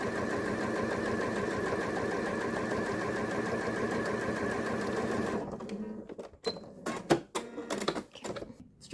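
A sewing machine runs steadily, stitching fabric straps for a scrappy tote bag, with a continuous whirring drone that stops partway through and gives way to scattered clicks and handling noises.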